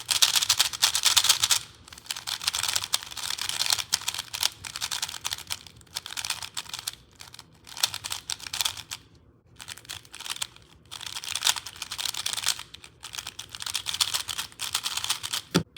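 Rapid, continuous typing on a mechanical keyboard with boron-treated switches, close and crisp, clacks running in dense bursts with a few short pauses, no voices.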